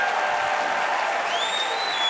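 An audience applauds at a gathering, a steady, full wash of clapping at moderate loudness that carries on evenly, with a faint whistle-like tone rising partway through.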